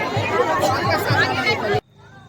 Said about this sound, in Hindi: देख सकते हो काफ़ी भीड़ है इधर